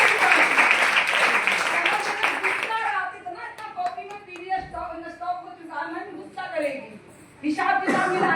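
A short burst of audience clapping at a DXN product meeting, dense and loud for about three seconds, then giving way to someone speaking.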